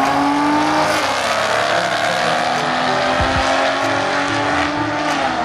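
A black-and-white muscle car with a black rally stripe roars down a drag strip, its engine loud and sustained at full throttle with a brief tire chirp midway, and no voices over it.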